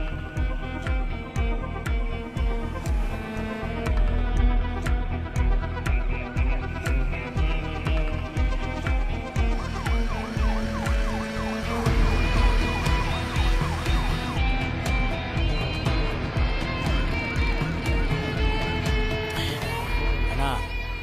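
A siren wails up and down through a dense, layered wash of tonal sound that stays loud and busy from start to finish.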